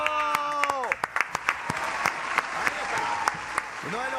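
An audience applauds a Paraguayan harp artist on a TV show, scattered loud claps and cheering over a presenter's excited voice and a fading musical sting, individual claps sharply distinct.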